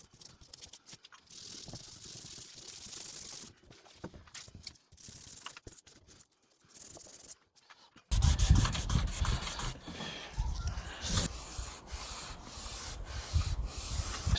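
Abrasive scuffing on a car roof around a leaking sunroof, keying the surface before silicone goes on: a steady, close rubbing and scraping, intermittent at first, then louder and continuous.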